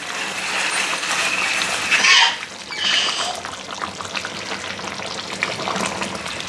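Green chicken frying in a pan as it is stirred, with a loud ongoing sizzle, scraping and wet stirring swells around the middle, close up and without talk.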